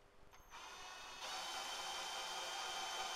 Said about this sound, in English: I'll just put a drill on it and make sure I got some movement there.